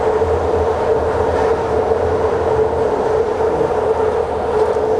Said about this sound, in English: Another Damon train passing.